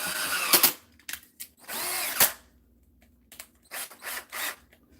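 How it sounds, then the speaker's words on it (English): A power drill pre-drills holes for drywall screws while building a tufted mirrored ottoman, whirring in several short bursts with quiet pauses between them and no talk over it. "you won't have to do what I'm doing now, pre-drilling holes"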